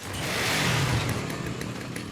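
A chainsaw-powered motorcycle in the video game Lollipop Chainsaw, a loud, close, buzzing engine snarl that swells and then holds a rough, ragged drone for about two seconds, with no talk.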